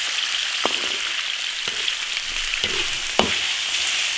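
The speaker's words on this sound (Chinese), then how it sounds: "肉下锅煸炒" Pork for twice-cooked pork fries in a wok with lard, giving a steady, loud sizzle with a few sharp spatula scrapes and knocks as the meat is stirred, and nobody speaks.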